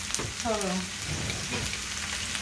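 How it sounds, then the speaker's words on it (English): Chopped onion and celery sautéing in a pan for chicken bog, a soft sizzle under brief talk, with a few stirring clinks and a short tonal squeak early on. "I'm just trying to saute it"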